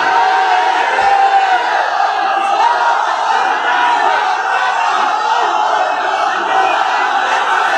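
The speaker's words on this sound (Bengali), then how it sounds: "আওয়াজ করে তাকবীর পড়েন।" Large crowd at an outdoor religious gathering chanting takbir: a dense, loud, sustained roar of many voices, steady throughout with no pauses.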